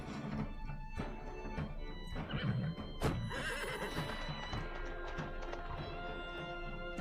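A horse whinnies in the Wartales video game, a sharp neigh rising mid-clip amid hoof clatter and game ambience, with softer snorts and thuds around it.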